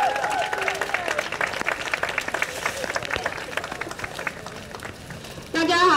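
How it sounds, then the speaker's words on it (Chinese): Audience applause at an anti-nuclear-power campaign gathering, a dense crackle of many hands clapping steadily for several seconds, with voices mixed in and a brief louder burst at the end. "掌声鼓励。"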